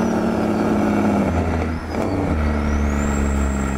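A Kenworth T660 double-trailer truck stuck on a road in Chiapas, Mexico, its diesel engine droning loud and close with steady low rumble, a brief dip midway and a rising whine as it revs.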